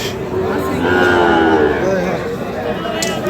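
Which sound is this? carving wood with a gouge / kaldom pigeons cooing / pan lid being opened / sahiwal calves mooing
sahiwal calves mooing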